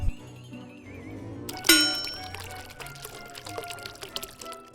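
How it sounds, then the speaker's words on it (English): A clang and a ringing ding as a container is handled, followed by a thin pour of epoxy resin into a mixing cup during jewelry making, faint trickling and small clinks close by; no speech. "The next step is to pour 1 part of your resin into the same mixing container."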